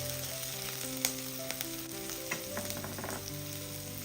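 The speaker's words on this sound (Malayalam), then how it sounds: "ഒരു 10 സെക്കൻഡ് ഒന്ന് ഇളക്കി കൊടുത്തിട്ടുണ്ട്" Green chillies and ginger frying in a pan on medium flame with a steady close sizzle, broken by a few sharp clinks and scrapes of stirring, no voices.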